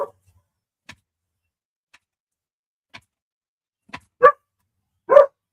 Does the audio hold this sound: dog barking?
yes